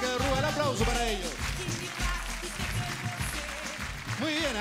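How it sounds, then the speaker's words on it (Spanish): Applause from a studio audience on a 1996 Spanish-language variety show, honoring young performers after street-band music; steady clapping throughout, mixed with a host's voice and musical tones. "El aplauso para ellos."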